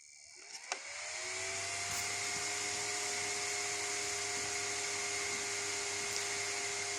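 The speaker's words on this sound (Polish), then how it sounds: "Zasilanie wentylatora jest przerywane." Small cooling fan inside a Kulon 820 battery charger, version 2021, with its power supply cutting in and out; after a click it spins up into a steady, faint electric whine that holds to the end.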